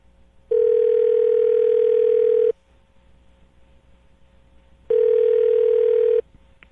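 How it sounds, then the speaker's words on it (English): Two long, loud steady telephone dial tones, each about two seconds, separated by a quiet gap, with no voices heard. "I'm going to dial the phone number right now"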